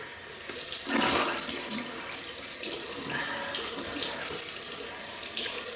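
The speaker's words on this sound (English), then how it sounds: "Another cold rinse." Cold water running from a bathroom tap for a rinse after a double-edge razor shave, a steady close splashing rush that continues throughout, with no talking.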